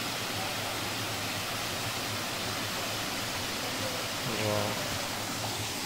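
Waterfall in Meghalaya roars as a dense, steady wash of rushing water heard close and loud, with a brief exclamation from a voice near the end.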